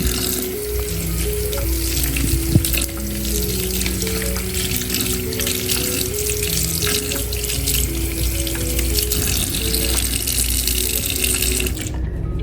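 Warm water runs steadily from a tap over a vintage Barbie doll being rinsed at a sink, a loud continuous splashing rush lasting throughout, with no talking.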